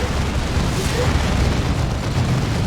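Artillery fire from a spotter shell in Dawn of War 2, a dense, continuous wash of booming and rumbling that stays loud and heavy throughout the battle.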